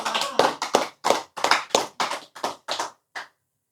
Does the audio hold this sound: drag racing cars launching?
no